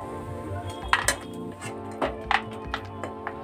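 A spoon clinks and scrapes against a pan while potato and peanut chaat is mixed, with the gas turned off. The light metallic taps are close and irregular, with no voices.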